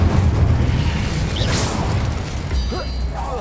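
Fiery spell blast in the Hogwarts Legacy video game, a dense, steady roar of booming, whooshing magic with low rumble throughout, a few brief sweeps near the middle and end, with a faint voice underneath.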